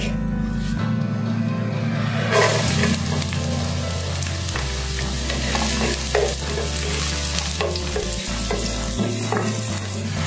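Garlic sautéing in a little oil for beef caldereta, a close, steady sizzle with repeated spatula scrapes and stirring strokes across the pan, no speech.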